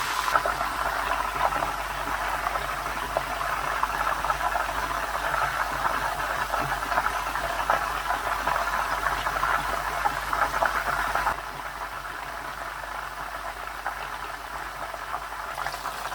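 Chicken pieces deep-frying in plenty of oil, a steady dense bubbling sizzle that stays close and continuous throughout, dropping slightly in level near the end.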